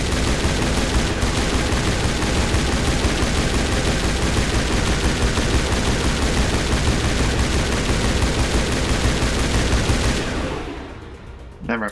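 Relentless automatic gunfire from Mass Effect Legendary Edition, a dense, unbroken rattle of rapid shots filling the scene at steady loudness for about ten seconds before cutting out abruptly.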